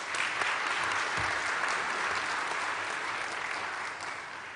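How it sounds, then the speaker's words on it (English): An audience at a university graduation ceremony for Faculty of Science master's and doctoral graduates applauds. The clapping is dense and sustained, filling a large hall at an even volume for the full duration and easing off only slightly near the end. "Let's give them a round of applause."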